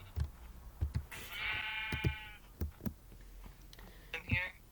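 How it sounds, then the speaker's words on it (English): Sheep bleating in a crowded pen, with a few drawn-out bleats standing out between people talking and intermittent thumps and rustles nearby. "There are too many sheep."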